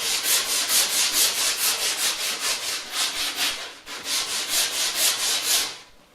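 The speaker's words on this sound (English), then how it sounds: "You can just do it by hand and use any sort of sandpaper." Hand sanding a rough wooden tool handle with coarse 80 grit sandpaper, steady rhythmic back-and-forth scratchy strokes, close and fairly loud, briefly pausing midway before stopping.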